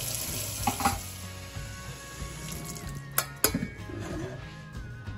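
Water heating toward a boil in a pot for a biscuits and gravy sausage casserole, a steady bubbling simmer close by with light clinks of a utensil against the pan and a couple of sharper knocks.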